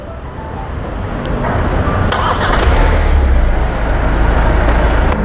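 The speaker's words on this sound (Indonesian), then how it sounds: "Secara otomatis mesin akan menyala seperti ini, dan AC juga akan menyala." A 2021 Hyundai Santa Fe starting by remote start, with the engine catching and settling into a steady, loud idle rumble, heard close and under outdoor wind noise.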